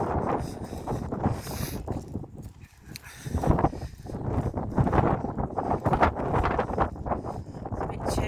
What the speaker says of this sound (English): It's a bit chilly, it's windy.